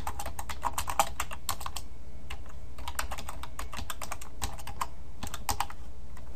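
Steady computer-keyboard typing while entering text in Notepad++, a run of close, crisp key clicks at an irregular pace with occasional heavier strokes, no voices.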